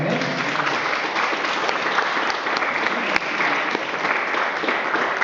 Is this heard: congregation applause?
yes